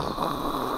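A voice imitates snoring with a single short, rough, rattling nasal snore during a religious lecture, fairly quiet and alone.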